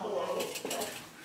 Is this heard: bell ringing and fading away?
no